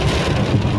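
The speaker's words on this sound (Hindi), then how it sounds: "काली घटा छाए और फिर बारिश बरसने लगे" Heavy rain pours in a downpour under dark monsoon clouds on a hot June day, a dense, steady hiss of drops drumming on surfaces, loud and close with no pauses.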